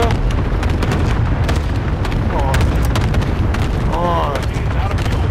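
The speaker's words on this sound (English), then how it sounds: "Cluster strike is active." Cluster airstrike blasts in the shooter Call of Duty: Modern Warfare, a dense rolling string of booming explosions and gunfire, loud and continuous, under radio chatter and game voices.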